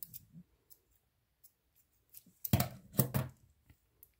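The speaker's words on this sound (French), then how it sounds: "Je viens couper mon fil." Scissors snipping crochet yarn after finishing a granny square round: a few soft, close clicks and a brief cluster of crisp cuts in a quiet room.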